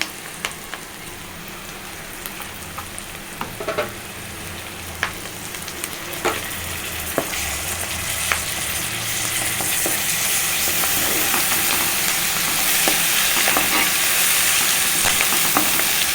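Sliced onions and a spoonful of ginger-garlic paste fry in a pan over a medium gas flame while cooking senaga pappu kura, a steady close sizzle with occasional stirring clicks and scrapes throughout.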